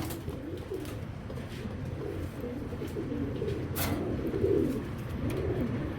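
Racing pigeons for sale, a batch of hens and males, cooing nearby in a steady overlapping murmur of soft low coos that runs throughout, with a faint background hiss.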